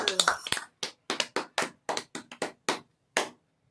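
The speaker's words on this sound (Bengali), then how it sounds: "এখানে সবাই মিলে হাততালি দিচ্ছে" Hands clap at a baby's first birthday celebration in a burst of quick, sharp claps that slow into separate spaced claps, close and fairly loud.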